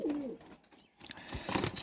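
A young yellow-eyed pigeon gives a brief, close coo at the very start, followed by faint rustling as the bird shifts about.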